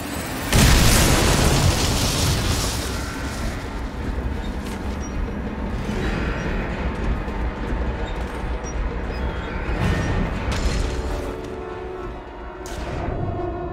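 A loud explosion from the video game Dishonored, a heavy boom that bursts in early and leaves a long rumbling roar with scattered crackles and debris, staying dense and steady throughout with no talk.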